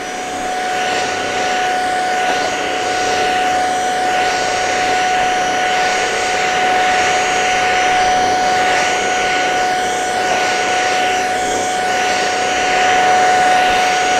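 An Ultenic U20 cordless stick vacuum runs over a carpet, giving a loud, steady high-pitched motor whine and airflow hiss that holds constant throughout with no talking.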